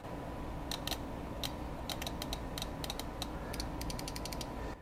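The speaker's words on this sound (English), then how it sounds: "Now, if we power the relay, we should hear it click." An automotive 4- or 5-pin relay clicks when powered, giving a series of sharp, close mechanical clicks in irregular bursts over a steady background hum, with no talking.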